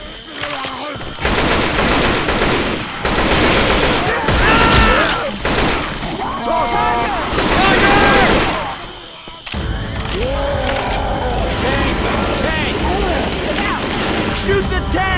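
Rapid, continuous gunfire from the video game Left 4 Dead 2 in a dark carnival setting, dense bursts with crashes and booms filling the whole stretch, loud and close.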